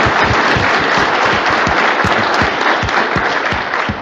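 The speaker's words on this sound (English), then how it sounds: "Give him a round of applause" An audience applauds after a talk on alfalfa and grass management for silage, a dense steady wash of many hands clapping with sharp low thumps, close and continuous throughout with no voices over it.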